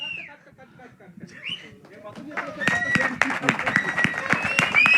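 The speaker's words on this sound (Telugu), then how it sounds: "Oh my goodness! ఈ క్లాప్" A burst of clapping and applause from a small group builds in and grows louder, with sharp irregular hand claps over scattered voices and a faint whistle.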